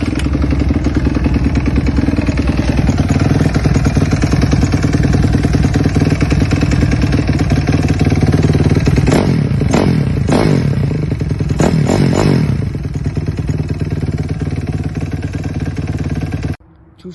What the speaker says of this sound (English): 4-stroke startup.